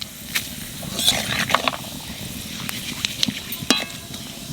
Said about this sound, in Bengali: তেলের উপর দিয়ে দেবো তেজপাতা আর কালো জিরে আর একটু চিনি